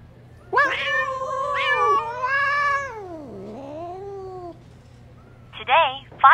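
Scared, angry kittens meow in the Love and Deepspace video game, giving a few loud, drawn-out wailing cries one after another, a short pause, then a quick burst of sharper mews at the end.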